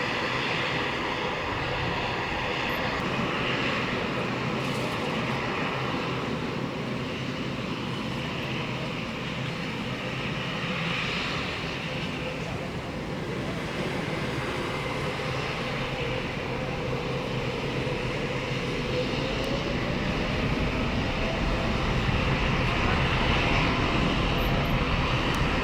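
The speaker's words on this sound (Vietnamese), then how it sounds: "mời mọi người chiêm ngưỡng pha cất cánh của chiếc Boeing 777F của Turkish Cargo cất cánh rời khỏi sân bay Tân Sơn Nhất hướng về Istanbul" A Turkish Cargo Boeing 777F takes off from Tan Son Nhat airport, its jet engines producing a loud, sustained broadband roar that holds steady throughout with a slowly shifting whine.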